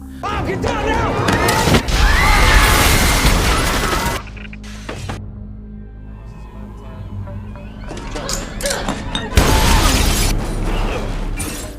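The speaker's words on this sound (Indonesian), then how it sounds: "dia melihat sebuah granat hingga terjadilah ledakan." A grenade blast rips through a restaurant in an action film, a loud roaring burst with shattering debris, followed by rumbling mechanical noise and a second heavy blast near the end.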